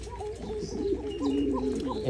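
Racing pigeons cooing up close, a run of soft, throaty, rolling coos that overlap and repeat steadily, with a light murmur of other birds in the background.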